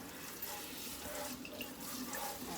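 Water is poured over an orchid plant to rinse it before coffee grounds go on, making a steady, continuous splashing rush close by with no talking.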